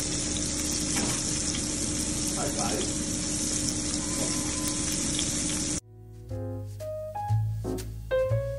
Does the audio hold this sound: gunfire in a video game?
no